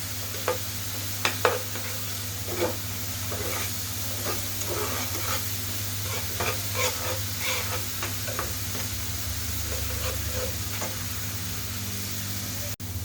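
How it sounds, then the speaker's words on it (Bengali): Spice paste for a country-chicken red curry being fried and stirred in oil, giving a steady close sizzle with repeated scraping strokes of a spoon through the pan, over a constant low hum, with no talking. "মশলাগুলো যখন আপনার দেখবেন যে উপর দিয়ে তেল ছেড়ে আসছে, তখন বুঝতে হবে যে মশলাটা আমার ভাজা হয়ে গেছে।"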